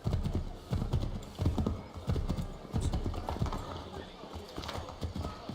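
A horse in the game Assassin's Creed 3 gallops with rapid, rhythmic hoofbeats and thuds, fairly close and continuous, while a person speaks over it.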